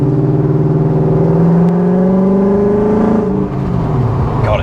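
A supercharged E39 BMW M5 accelerating, its exhaust a loud, close, continuous drone that climbs steadily in pitch and then eases off near the end, with no talk.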